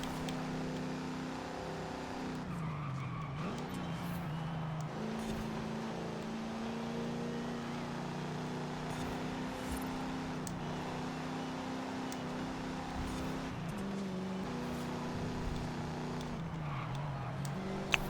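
Steady engine drone of a 1969 Dodge Charger R/T in a racing video game, holding a continuous hum with a few brief pitch dips around gear shifts during an overtake, no voices.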